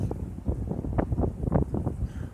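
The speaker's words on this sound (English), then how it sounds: "maybe you can hear the wind. It's not quite a mistral" Gusty wind blows outdoors in a birch tree forest, with rough, buffeting bursts of low rumbling noise hitting the microphone in uneven pulses.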